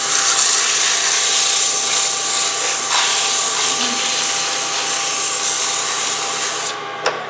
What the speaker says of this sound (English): I'm just going to sand this direction on 9